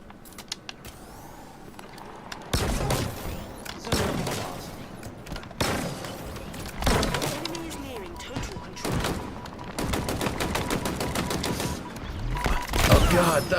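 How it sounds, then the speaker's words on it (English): Repeated bursts of heavy gunfire in a Halo-style custom multiplayer map, several loud volleys in quick succession with short gaps between them. "Oh no, someone's shooting at me."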